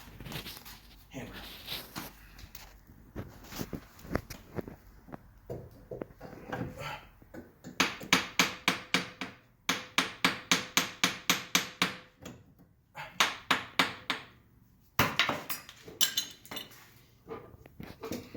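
Repeated metal hammer blows on the axle of a 250,000-mile diesel minivan, struck in quick rhythmic bursts of ringing clanks, close and loud, with brief pauses between volleys and some speech early on.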